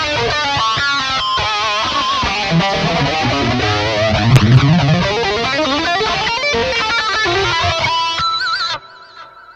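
An electric guitar lead in a thrash metal-style tone, played through a flanger effect with a distorted sound that sweeps steadily, runs continuously at a loud level and stops abruptly near the end, with no talking.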